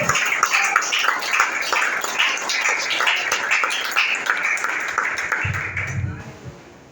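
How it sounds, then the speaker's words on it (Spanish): A church congregation at Sunday school applauds in a dense patter of claps, with voices running through it, before the clapping thins and fades out near the end. "Fuerte el aplauso."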